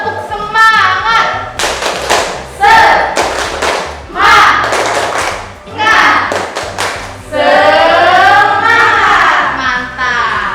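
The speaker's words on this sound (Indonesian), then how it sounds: "Tepuk semangat." Babysitter trainees doing rhythmic 'tepuk semangat' spirit clapping during a baby-care training session, with bursts of loud group claps in patterned beats alternating with chanted voices, close and energetic throughout.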